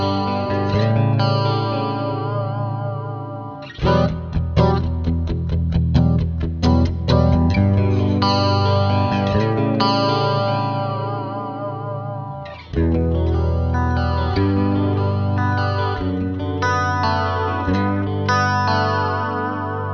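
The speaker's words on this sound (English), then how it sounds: "Now this also features a new effect, the JC Chorus, which is placed before the amplifier." Electric guitar played through a Fender Mustang GTX amplifier on the JC Chorus preset, with the chorus placed before the amp, giving sustained, shimmering chords and picked phrases that swirl with modulation, loud and continuous with a short break near the middle.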